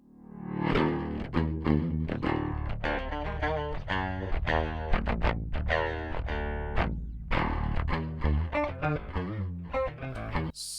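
A distorted electric guitar plays a dense, continuous riff with chords and picked notes, loud and steady with heavy low end, while a low-shelf EQ is switched off and on partway through.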